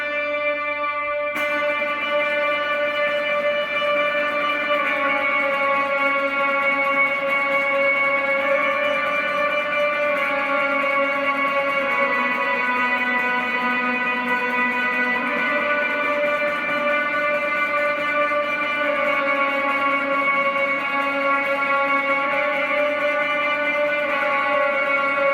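An overdriven electric guitar rings out sustained octave notes drenched in reverb, in a worship-song style, the chords held and blending into a continuous wash with no pauses or talking.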